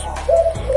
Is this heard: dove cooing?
yes